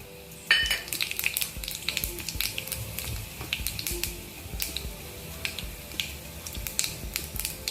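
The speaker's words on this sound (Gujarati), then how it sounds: "જીરું સરસ રીતે તતડી જાય" Cumin seeds crackle and sizzle in hot oil in a pan, a close, steady frying hiss dotted with sharp popping crackles throughout.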